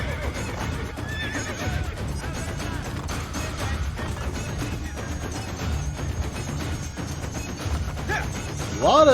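Horse in the Assassin's Creed video game whinnies and neighs loudly over a continuous rhythmic clatter of galloping hooves, with a sharper neigh near the end.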